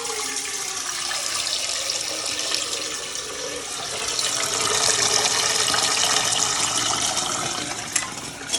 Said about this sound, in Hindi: इस तरह तो हम पानी डाल देते हैं